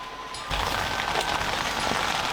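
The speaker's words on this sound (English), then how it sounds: "The rain on the tent is probably going to be quite annoying, so sorry about that." Steady rain pattering on a tent, a dense continuous patter that starts abruptly after a brief quieter moment and holds at a constant close level with no voices.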